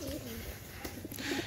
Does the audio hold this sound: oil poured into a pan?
no